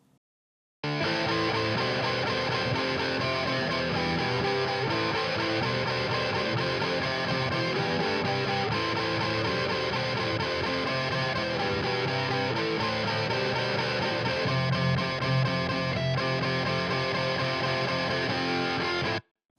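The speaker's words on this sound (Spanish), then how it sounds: "Vamos a escuchar la melodía principal junto con las guitarras power chords." A main guitar melody rides over distorted power-chord electric guitars in a dense rock mix, a continuous loud wall of sound running about eighteen seconds without pauses; nobody speaks.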